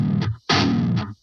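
Distorted guitar chugs from a MIDI metal riff, two short palm-muted bursts separated by silence, each followed by a brief pick and string release noise; loud, close and dry with no voices.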